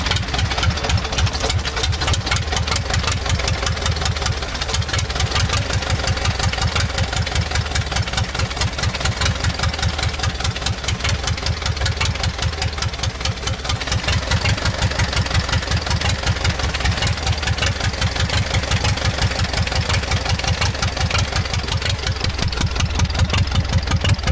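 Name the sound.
D-240 diesel engine running in ZIL truck, not revving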